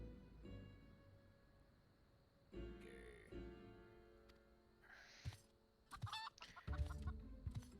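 A video game chicken clucks in short bursts amid other game sound effects and background music, with scattered squawks and chimes at moderate volume.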